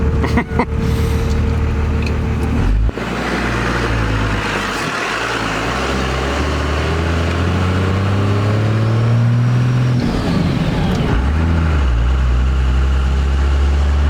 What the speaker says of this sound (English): The turbo is just gigantic, so it takes a while for it to spool up, but off the line, it's really not that bad.